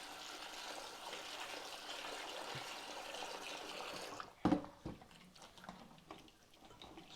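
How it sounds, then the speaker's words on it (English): Chopped potatoes are rinsed under running water, a soft continuous gush that stops abruptly, followed by a few close splashes and knocks as they are handled in the bowl; no one talks. "I've just chopped them, so I'll give them a quick wash."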